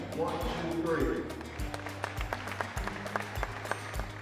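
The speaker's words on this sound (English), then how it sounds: "all I want you to do is just clap your hands" An audience at a southeastern rodeo claps hands together in a brief burst, followed by a few scattered claps under a voice speaking.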